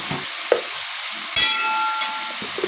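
Spices and salt are stirred into mutton curry in a frying pan: soft scrapes and stirring, then a louder burst of sizzling that keeps crackling steadily to the end.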